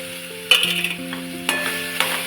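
Homemade masala with coriander powder being stirred and mixed in a pan, a close sizzle broken by three sharp scraping strokes of the spoon at regular intervals, with no voices.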